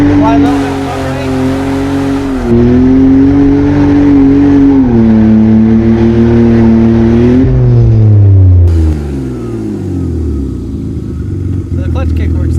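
A BMW E46 drift car doing a clutch-kick burnout with a little foot brake: a loud, close engine revs hard and holds high, surges again in steps, then falls away toward idle, with a harsh roar throughout.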